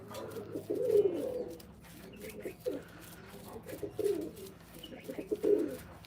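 Pigeons kept by a Malwa-style pigeon fancier coo in a series of soft, rolling calls roughly every second, close and clear over a quiet low hum.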